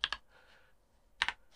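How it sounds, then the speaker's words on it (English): Computer keyboard typing while entering a heading in a web page builder, two short bursts of quick key clicks separated by a pause, close and clear. "you just simply start typing in"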